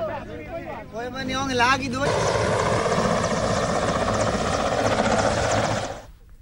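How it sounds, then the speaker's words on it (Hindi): Air Force helicopters spraying locust swarms over crop fields: after a brief voice, a loud, steady rotor and engine roar holds for several seconds before fading out. "वायुसेना के हेलीकॉप्टर टिड्डियों पर एयर स्ट्राइक कर रहे हैं।"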